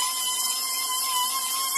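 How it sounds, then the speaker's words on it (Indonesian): An HL 9010 240W electric sander runs steadily on a surface, giving a continuous, high-pitched whine with an even, unbroken tone and no talking. "kita coba amplas di sini ya"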